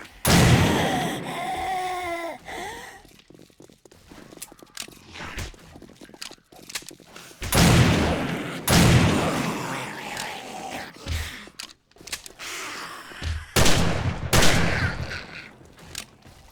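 Shotgun blasts in the survival game 7 Days to Die, several sharp loud bursts spaced irregularly across a busy scene, mixed with breathy vocal noises.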